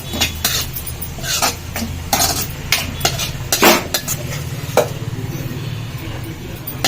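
A spoon scrapes and clinks against a metal pan in quick, irregular strokes, stirring tomato curry with coriander, close by, over a low steady hum from the stove.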